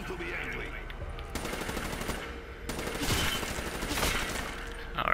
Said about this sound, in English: Shoot those zombies up a bit